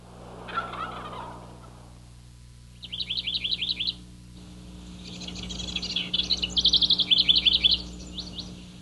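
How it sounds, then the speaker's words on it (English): A wild turkey hen gives a mating call outdoors, two bursts of rapid high yelping clucks, the second longer and louder, set against quiet background hum. "The hen mating call."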